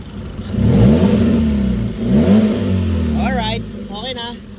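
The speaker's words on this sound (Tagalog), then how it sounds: "Rev mo sir, pakinggan natin." A Hyundai Accent engine is revved twice in close succession, each rise swelling loudly and falling back toward idle, while someone speaks briefly near the end.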